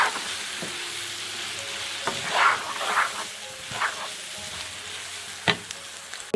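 Garlic pickle with red chili powder and turmeric powder being stirred in hot oil, a steady sizzling hiss with intermittent scraping spoon strokes and clicks, close and alone without talk.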